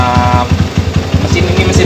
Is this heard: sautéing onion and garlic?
no